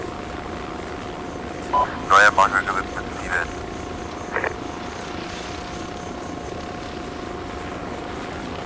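A helicopter in the ArmA 2 military video game drones steadily throughout, with a constant engine and rotor hum under short bursts of radio speech.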